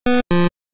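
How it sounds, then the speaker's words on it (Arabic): Two short synthesizer square-wave notes with pulse width modulation, each buzzy, hollow and rich in harmonics, played one after the other with a brief gap, loud and alone. "وده حاجه اسمها بلس ويت موديليشن، معناه ان ياخد نفس السكوير ده بس هنلعب في الويت بتاع شكل"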